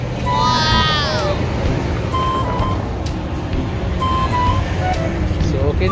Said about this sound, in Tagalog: maingay pala kasi nagdami yung truck